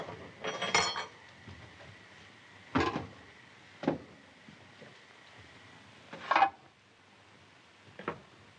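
A metal utensil scrapes and clinks against a cooking pot while someone eats straight from it, in a quiet room in a 1939 drama. Five or six sparse, short clatters sound at uneven intervals, fairly faint, with no talking.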